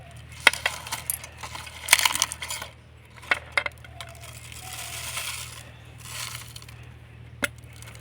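Whole spices are dropped into a sweet jar of a mixer grinder, giving scattered small clatters and rattles against the jar, close up and in uneven bursts.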